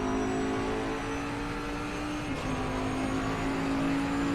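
A race car engine in a racing game lapping Brands Hatch, a steady loud droning whine held through the final turn with little change in pitch.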